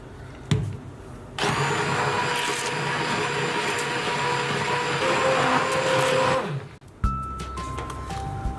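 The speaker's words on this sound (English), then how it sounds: "So I'm just going to use a stick mixer to do this." A stick mixer blends hot tomato sauce for a Napoletana sauce, a steady loud whirring drone that starts after a brief knock and runs for about five seconds before cutting off, followed by a few light clatters.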